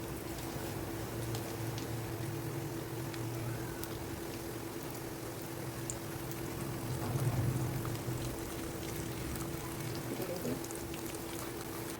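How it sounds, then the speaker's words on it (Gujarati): Mustard and cumin seeds crackle and sizzle in hot oil in a pan, a soft, steady spatter with fine pops, faint and continuous with a steady background hum. "રાઈ ને જીરું આપણે તતડી ગયા છે."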